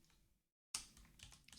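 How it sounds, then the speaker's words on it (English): Fingers tap at a new computer keyboard, producing a quick run of faint clicks after a brief silence, close and quiet. "I like my new keyboard, but it's also like I'm not used to typing on it yet"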